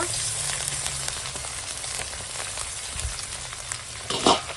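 Chicken meat frying in a pan with onions and green chillies gives a steady, moderate sizzle and crackle, with a brief louder clatter of stirring near the end.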